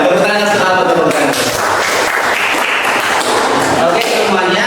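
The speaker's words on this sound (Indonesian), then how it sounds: "Tepuk tangan sekali, tepuk tangan." A room full of people claps steadily in applause at the close of a group discussion on intolerance, the dense clapping lasting throughout with voices mixed in.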